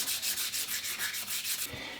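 Light-pressure hand sanding on a wooden rifle stock during restoration, a steady series of rhythmic back-and-forth rubbing strokes, close and fairly loud, with no voices.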